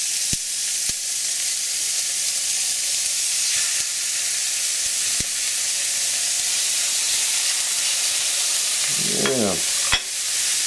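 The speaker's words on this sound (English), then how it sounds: "Okay, our pan's warm. We're going to go ahead and we're going to put our burger patties in here." Three burger patties sizzling in a warm pan for a Mexican hamburger, a steady loud hiss filling the clip with a few sharp clicks, then a short burst of clatter near the end.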